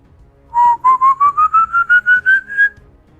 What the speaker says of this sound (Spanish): Si escuchas su silbido muy cerca